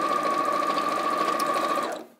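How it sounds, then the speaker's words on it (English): A sewing machine stitching down fabric edges on a quilt: a steady, close mechanical whir with a constant hum, running evenly before stopping abruptly at the end. "And then sew down the edges."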